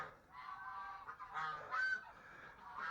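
A nesting duck gives soft, nasal honking calls in short bursts, fairly close but quiet, with brief pauses between calls over a hushed, humid backdrop.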